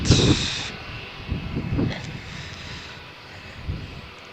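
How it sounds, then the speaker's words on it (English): A Lufthansa Airbus A321 jet rumbles at Malaga Airport on a stormy morning, a low distant engine roar swelling and fading under steady background noise, with a brief high whine at the start. "Lufthansa flight, Airbus A321, 231."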